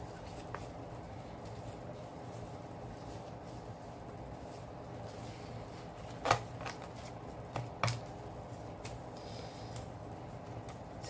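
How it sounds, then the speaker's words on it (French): Paper doilies rustled and handled up close, with soft continuous crinkling and a couple of sharper crisp rustles and taps standing out. "C'est des napperons en papier."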